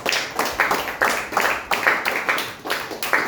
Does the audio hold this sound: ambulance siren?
no